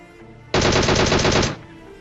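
Automatic gunfire in the video game PUBG Mobile, a single loud sustained burst of rapid shots lasting about a second, close and dominant, with quiet game ambience around it.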